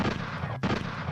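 A gunshot sound effect gives dense, booming blasts across a little over a second, with a brief gap and then another loud report.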